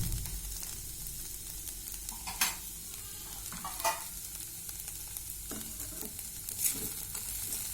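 Flattened rice frying in ghee on low heat, a soft continuous sizzle with occasional scraping stirs of a spatula against the pan, close and steady.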